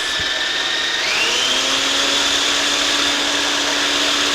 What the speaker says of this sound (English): Pop your food processor on.